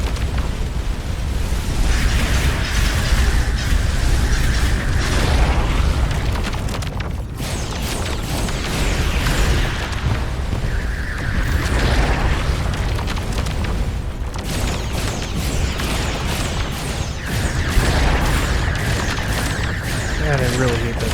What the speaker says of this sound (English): Except for that stupid radiation missile.